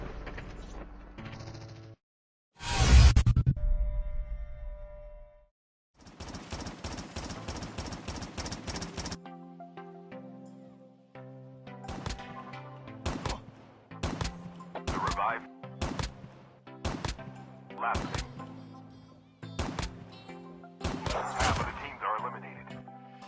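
HG-40 submachine gun firing in Call of Duty Mobile, several sharp rapid bursts and single shots in quick succession, loud and close, with short pauses between volleys.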